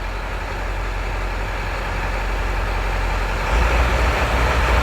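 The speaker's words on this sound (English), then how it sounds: "let's do the key on engine running self-test" A Ford E350 van engine idles steadily during a key-on engine-running self-test, a continuous low rumble that grows slightly louder and deeper near the end as the revs rise.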